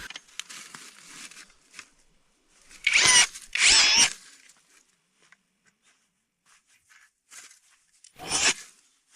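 Two close bursts of harsh grinding as a hole is drilled through lake ice, then a third a few seconds later, with quiet scraping and shuffling between.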